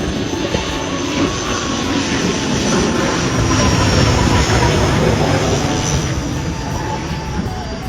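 Loud, sustained engine roar of an airplane passing overhead, a continuous rumble lasting throughout with no speech.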